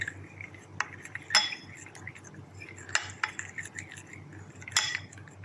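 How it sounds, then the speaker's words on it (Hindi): A spoon clinks and scrapes against a bowl while chicken is mixed with lemon juice, black pepper and garlic powder for tacos, with soft intermittent metallic taps and stirring over a quiet background. "अब हम अच्छी तरह से मिक्स कर लेंगे।"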